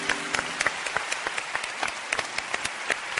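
Studio audience on a Turkish TV talk show applauds in memory of a late singer, steady crowd clapping with distinct sharp hand claps throughout, moderately loud and unaccompanied by talk.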